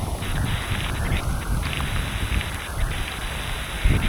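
Steady, loud wind buffets the microphone throughout, a constant low roar with rough gusty texture and no voices.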